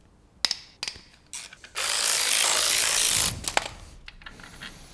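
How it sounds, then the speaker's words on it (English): A ratchet clicks while loosening transmission bolts on a BMW 850i V12, with short sharp ratcheting bursts and a longer stretch of steady rasping in the middle, close and clear, with no speech. "Now I'm gonna unbolt the transmission."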